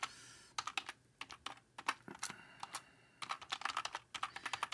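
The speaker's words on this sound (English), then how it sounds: "So let me type in my email address here." Someone types an email address on a computer keyboard in quick uneven bursts of crisp, close key clicks, with short pauses between runs.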